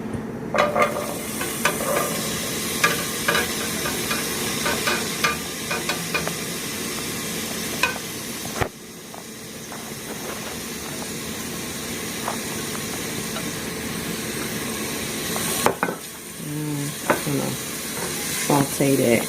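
Vegetables for a vegan lasagna sauté in a pan, crackling and hissing steadily while a utensil scrapes and taps at irregular intervals, close up, with a brief pause midway and no talking.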